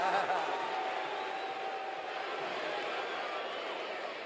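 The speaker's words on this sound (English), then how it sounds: "fans cheering so tremendously for a guy named Jake the Snake" A wrestling arena crowd roars steadily for Jake the Snake, a dense, sustained wall of cheering and whooping that holds loud and even throughout without letting up.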